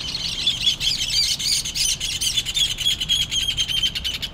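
Birds chirp and tweet in a rapid, steady stream of bright calls in a town park on a lawn before a municipal building, fairly close and with no talk.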